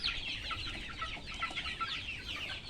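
Chickens clucking steadily at close range while feeding on chopped banana stem mixed with rice bran, with overlapping soft calls and no talk.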